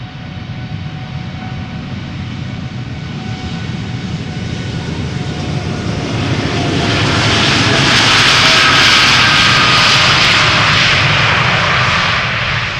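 A Norwegian airliner in UNICEF livery taking off at Amsterdam Schiphol, a loud close jet roar building steadily to a peak and holding, with no voices.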